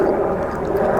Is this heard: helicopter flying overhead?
yes